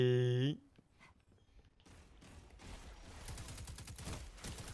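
Gunfire in Destiny 2 rattles in scattered shots that build into a denser burst toward the end, heard after a short tonal game sound cuts off, with game noise around it.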